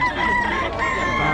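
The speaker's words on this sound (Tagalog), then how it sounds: "Ang daming manok na." Many chickens cluck and crow together at a busy poultry market in Bocaue, a loud, dense and continuous flock chorus close by with no talk.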